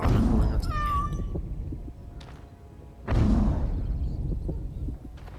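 A cat meows in Dragon Age: Origins - Awakening, with several distinct cries, the first near the start and another rising around the three-second mark, loud and close over a steady game background.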